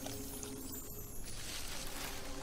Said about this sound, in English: We gotta pour that over here.